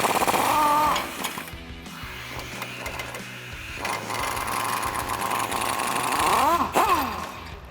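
An impact gun rattles at a track bar bolt on the axle side of a Jeep Wrangler JL using a 21mm socket, giving loud, close bursts of buzzing hammering with short pauses between them.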